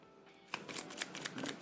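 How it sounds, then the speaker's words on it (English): A deck of playing cards riffled and shuffled at a tabletop during a solo dungeon board game, a quiet rustle giving way to a burst of rapid, close flapping card bursts with no talking. "I'm gonna shuffle this."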